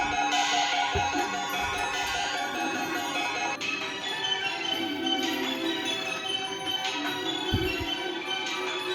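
Bells ring continuously with bright, overlapping chimes, a dense festive peal that holds steady throughout.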